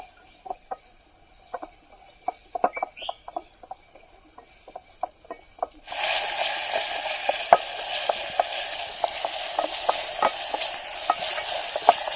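Chopped onion dropped onto whole spices in a pan outdoors in a forest: scattered stirring clicks at first, then a sudden loud, continuous sizzle with repeated scraping taps.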